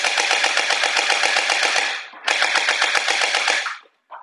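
VDD Toys MP5K automatic gel ball blaster firing full-auto at a target in two rapid bursts with a brief pause between, loud and close, clattering mechanical rattle of each shot.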